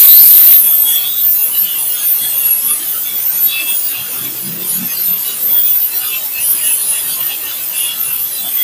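An unguarded angle grinder cuts open a Zymar Power transformer, giving a steady, loud, hissing abrasive rasp that runs unbroken and alone from start to finish.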